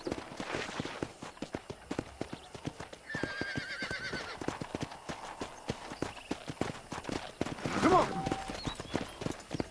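A horse clip-clopping at a trot in the video game Red Dead Redemption, with a loud whinny near the end; hooves beat steadily and close, while voices talk over parts of it.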